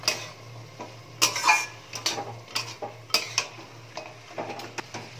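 Ash gourd and ginger paste being stirred in a cooking pot, with a run of spoon scrapes and clinks against the metal, some louder clusters and lighter taps, close by and without talk.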